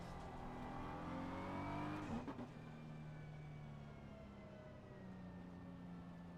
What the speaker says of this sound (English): I'm bouncing it off the limiter.